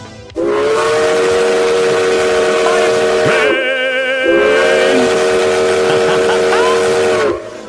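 A loud steam train whistle sounds as an alert for a Twitch hype train, one long sustained tone that shifts pitch briefly in the middle, then returns and cuts off.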